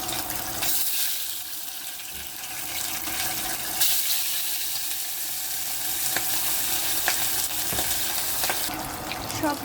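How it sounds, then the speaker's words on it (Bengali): Eggs fry in hot oil in a pan with a steady, loud sizzle and crackle throughout, occasional sharper spatters and stirring clicks, no talking. "তেল দিয়ে এখন আমি ডিমগুলা আগে ভেজে নেব।"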